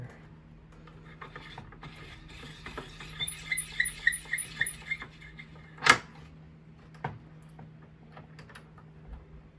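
A hand trimmer cuts .338 Lapua brass cartridge cases, giving quick, close ratcheting clicks in a short burst and then one sharper metallic click against a low, quiet hum.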